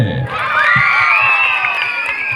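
A school-event crowd, heavy with children's voices, breaks into loud, sustained cheering and shouting, with some clapping underneath.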